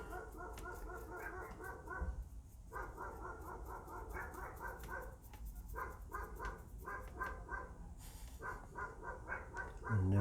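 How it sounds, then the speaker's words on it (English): Several dogs bark in repeated bursts, loud yapping and bow-wows with short pauses between volleys, and a whimper or yip mixed in. "Dogs will bark at the drop of a hat."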